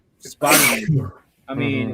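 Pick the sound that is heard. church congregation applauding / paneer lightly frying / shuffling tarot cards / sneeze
sneeze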